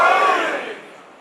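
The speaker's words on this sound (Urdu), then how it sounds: "کوشش کریں کہ ممکنہ حد تک بلند صلوات پڑھیے" A large crowd of mourners at a religious gathering loudly chants salawat in unison, a dense, swelling roar of voices that begins loud and fades over about a second.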